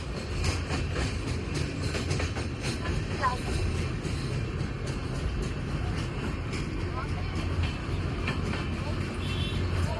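A train rolls steadily across the Farakka Barrage, a continuous loud rumble with faint rhythmic clatter heard from a moving bus, persisting for the whole stretch with wind and road noise.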